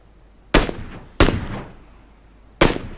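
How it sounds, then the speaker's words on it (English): Gunfire in PUBG Battlegrounds, three loud, sharp single shots spaced irregularly, each with a short decaying echo, close and alone. "Pinky takes some pot shots at Patrick."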